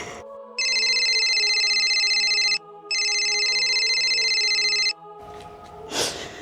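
A phone rings in two long electronic bursts, each about two seconds with a short gap, loud and close, followed by a faint rustle and a short breath at the end.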